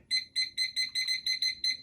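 A digital timer beeps in a quick regular series of short, bright pips, about nine evenly spaced tones at a moderate level with no talking over them, each press sounding as it is set.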